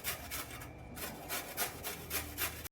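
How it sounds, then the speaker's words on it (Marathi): A peeled potato is grated by hand, giving close, steady rasping strokes in a regular rhythm, with no talking. "याच्यामध्ये 1 बटाटा जो आपण साल काढून घेतलेला आहे तो पूर्ण किसून घ्यायचा आहे"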